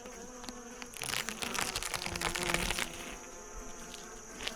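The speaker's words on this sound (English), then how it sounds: "It's a very nice full hive of bees." Honey bees hum in a dense, continuous drone from a full hive, close and fairly soft, swelling briefly with a louder buzzing surge in the middle.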